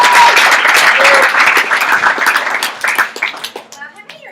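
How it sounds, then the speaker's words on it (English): An audience at an opportunity meeting gives a loud round of applause, dense clapping that thins into scattered claps toward the end, with a few voices underneath. "give a round of applause for Mrs."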